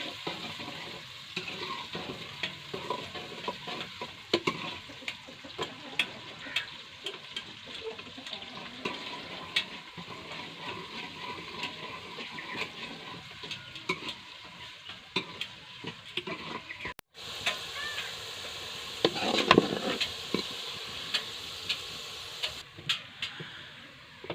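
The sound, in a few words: onions frying and browning in hot ghee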